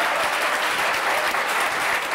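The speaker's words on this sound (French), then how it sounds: "On peut applaudir" Studio audience applause on a French-language quiz interview, loud and dense clapping that holds steady for the whole short stretch.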